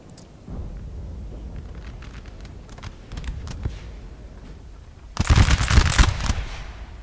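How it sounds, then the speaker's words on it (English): A sharp burst of crackling gunfire erupts near the end, a dense volley of musket shots from line infantry in the video game Napoleon: Total War after quieter scattered rumble and faint clatter. "Looks like there's some line battle shooting over here"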